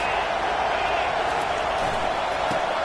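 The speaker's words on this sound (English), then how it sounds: "This crowd trying to make life miserable for this offense." A stadium crowd in the NCAA 25 college football video game sends up a steady, dense roar, a constant wash of massed voices with no breaks and no commentary heard.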